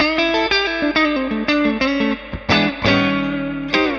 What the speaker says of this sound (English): you can really get into some of those cool vintage surf tones by dialing up the dwell